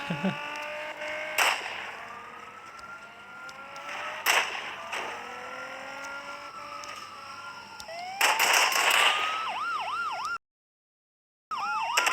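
Police sirens wail through a Gangstar New Orleans street scene, several overlapping rising and falling tones with a rapid yelp near the end, broken by sharp bursts of noise and a short gap of silence.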